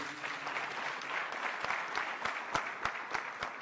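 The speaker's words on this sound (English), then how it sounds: "please clap for them. Clap for them, please." An audience at a medical school white coat ceremony claps for parents, a steady room-filling applause at moderate volume with sharper individual claps standing out toward the end.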